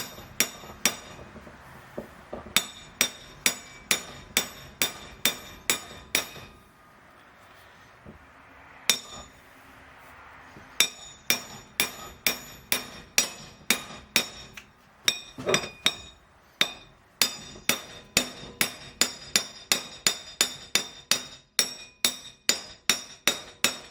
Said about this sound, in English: I slot the stud into the vise just to support it, and I kind of tap it.